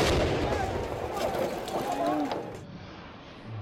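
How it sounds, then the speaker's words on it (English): A grenade explosion close by during a police advance against protesters, a loud rumbling blast and roar of noise that slowly fades, with commotion and voices mixed in. "captured a grenade attack just a few metres away on camera"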